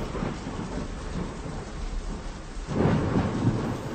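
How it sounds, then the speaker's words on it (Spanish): Downpour of heavy rain with thunder rumbling, a constant hiss of rain and a louder rolling swell of thunder near the end, no voices. "Está lloviendo a cántaros"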